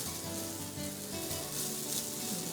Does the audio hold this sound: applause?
no